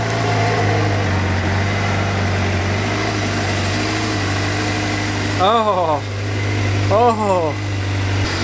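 A Suzuki motorcycle engine runs at a steady, loud idle throughout, with a brief throttle blip or restart surge near the end and a man's short exclamation over it.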